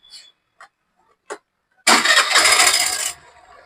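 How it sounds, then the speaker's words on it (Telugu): A used 2021 BS6 motorcycle is self-started: a few short clicks come first, then the engine cranks and catches in a loud, close roar for about a second before settling to a softer idle. "ఇంజన్ కానివ్వండి సెల్ఫ్ కానివ్వండి మొత్తానికి అయితే ఆన్ లో ఉంది మీకు సెల్ఫ్ కొట్టి కూడా చూపిస్తాను ఒకసారి"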